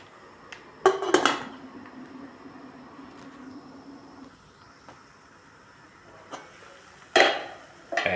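A metal lid clanks onto a cooking pot of shrimp sinigang, two close clattering knocks several seconds apart, with a low steady simmering hum in between.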